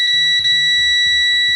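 A multimeter set to continuity emits a steady, unbroken beep while its probes test the 3.3-volt rail of an ATX computer power supply with a short circuit. The tone is loud, clear and close, with faint low handling noise beneath it.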